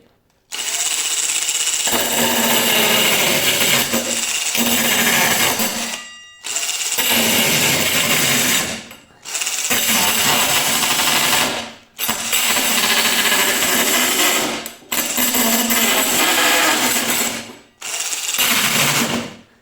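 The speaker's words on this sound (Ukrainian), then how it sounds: "Спочатку спробуємо, як буде різати ламінат і шурупокрутом." Circular saw attachment on a cordless screwdriver cutting through laminate, a loud whining buzz repeated in six bursts of roughly two to three seconds, each separated by brief pauses, with no talking.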